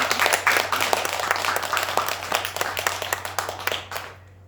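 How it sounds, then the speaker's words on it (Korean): Audience at a Buddhist temple sermon clapping in a brisk burst of distinct hand claps, loud at first then thinning to scattered claps and stopping before the end over a low steady hum. "잘 되라고 박수나 쳐라."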